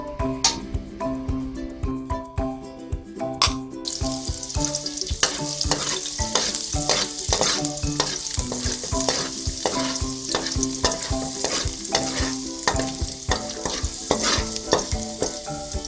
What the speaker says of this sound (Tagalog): Igigisa na po natin yung bawang